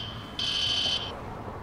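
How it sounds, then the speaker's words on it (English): A police license plate scanner alarm beeps once, flagging a vehicle or driver violation: a steady high-pitched tone lasting about half a second over a low background hum. "That alarm goes off when the driver or the car has a violation"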